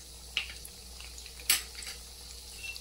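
Chana dal and urad dal sauté in a pan with cumin for a street-style jini dosa filling. A quiet, steady sizzle hums underneath, broken by two sharp spoon scrapes against the pan.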